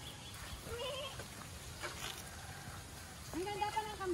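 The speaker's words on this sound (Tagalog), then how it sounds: "may kambing pa, oh." A white goat bleats twice in a rural province setting, a short call early and a louder wavering bleat near the end, with outdoor background noise and people talking around it.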